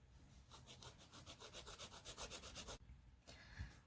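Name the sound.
nail file filing fingernails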